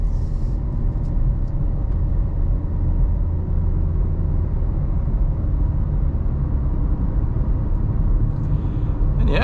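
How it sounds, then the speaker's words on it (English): Cabin sound of a 2024 Kia Seltos S with a CVT on the move: a steady low road rumble mixed with engine drone, wind rush and tire noise, continuous and even throughout. "we'll get a good idea on the sounds that this vehicle produces, so the wind noise, tire noise, things like that"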